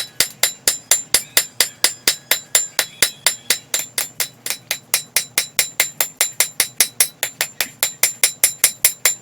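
Steady, rapid series of ringing metal hammer blows from a cross peen hammer forging a steel blade, about four strikes per second, loud and close with no talking.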